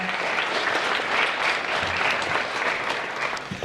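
Applause for a school vice principal at a National Honor Society induction ceremony: steady, dense clapping from a sizable audience, loud and sustained throughout, with no speech over it.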